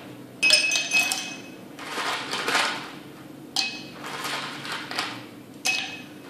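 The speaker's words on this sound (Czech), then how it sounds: "vezmeme si skleničku a dáme tam trošku vody" A drinking glass clinks sharply several times as water is poured into it while an iced drink is prepared, with bright, ringing taps separated by softer splashing, close and fairly quiet.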